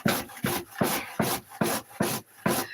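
Food being grated by hand in a home kitchen: seven steady rasping strokes at an even rhythm, close and fairly loud, with no talking.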